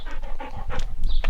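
Several dogs pant in quick, close, overlapping bursts of rapid breathing, with a short whimpery note near the end; no one speaks.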